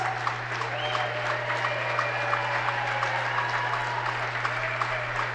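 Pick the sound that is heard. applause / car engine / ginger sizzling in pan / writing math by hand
applause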